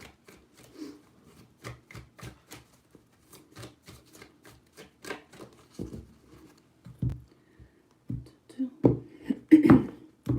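Tarot cards are shuffled by hand in soft, papery riffles and slaps, a series of brief bursts that grows busier toward the end, close and quiet.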